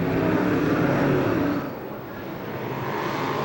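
Race cars roaring hard on a restart at Syracuse in 2002, a dense, loud engine drone that dips briefly midway then swells again, with no talk.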